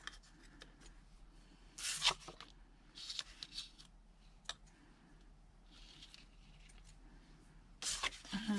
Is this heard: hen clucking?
no